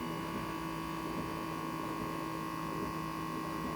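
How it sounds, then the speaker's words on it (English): The electric vacuum pump of a Soulhand coffee canister runs with a steady, quiet, even electric hum, unbroken and with no talk. "I have to put it down, and then I'm gonna push the vacuum button."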